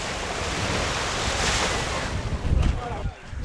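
Lake Kivu waves wash and surge steadily along the shore at Gisenyi, Rwanda, loud and close with wind buffeting the microphone, a heavier splash near the end.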